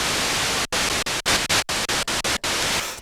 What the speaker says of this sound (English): It's just your standard white noise.